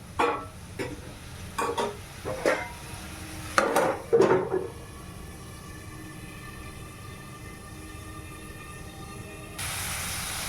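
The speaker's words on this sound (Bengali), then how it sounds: "সামান্য একটু জল দিয়ে দিচ্ছি এটা এখন কষা হবে ঢাকা দিয়ে দিই" Hilsa fish tail and head being sautéed in a pan: a few knocking stirs and scrapes of a spatula up front, then a quiet, steady low sizzle alone.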